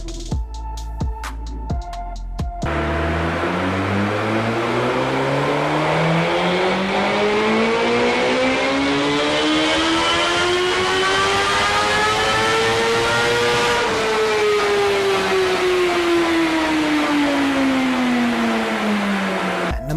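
Suzuki GSX-R1000 superbike with a liquid-cooled inline four-cylinder engine, loud and close, revving steadily up to a high pitch and dropping back, after a few short blips at the start.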